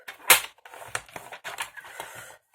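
Paper being creased down the middle to form a diamond-shaped box: crisp rustles and a sharp crackle up front, then lighter scraping presses, close and unaccompanied by talk.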